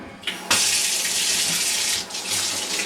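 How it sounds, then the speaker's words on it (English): Kitchen or bathroom tap gushing water over a sheet of watercolour paper, a close steady hiss that starts abruptly after a brief splash, dips for a moment near the end, then resumes. "run the tap,"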